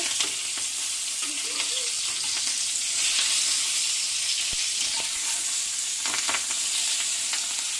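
Hilsa fish fries in a covered pan and is flipped partway, a steady close sizzle with a few brief scrapes and clatters, and no one talking.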